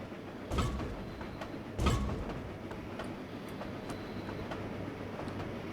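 A train in Trainz Railroad Simulator 2019 runs past a station on the Cornish main line without stopping, giving a steady rolling rumble with two heavier thumps early on and faint rail clatter.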